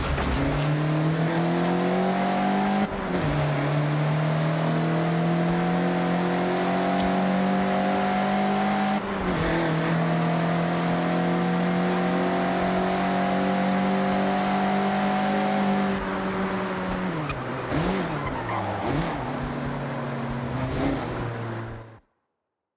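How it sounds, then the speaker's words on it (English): A Mazda MX-5 races and drifts in the Forza Horizon racing game. The engine note holds loud and close, rising and dropping through gear changes, with a rougher, wavering stretch near the end before it cuts off. "Attack these corners. Don't worry about traction. The MX-5 likes to be sideways."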